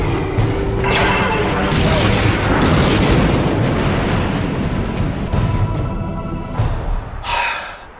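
Heavy weapons fire in an animated film scene from The Secret of NIMH 2, a loud, continuous barrage of booming blasts and crashes that rolls on for several seconds before fading.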